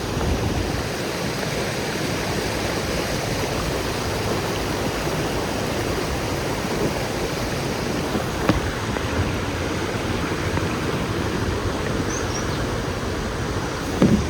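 The small Varnakala waterfall, in the Peak Wilderness Sanctuary, pours in a steady, full roar of falling water, heard close up and unbroken throughout with no voices.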